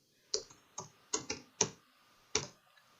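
Keystrokes on a computer keyboard while entering a Turkish ID number into an e-Government travel permit form: about six sharp, irregular clicks, some in quick pairs, close and clear with no talking.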